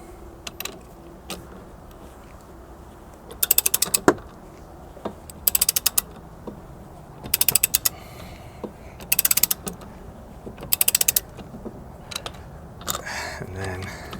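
Caravan wheel nuts being tightened with a wrench, giving bursts of rapid ratcheting clicks repeated about six times with short pauses between, close by, with occasional talk in between.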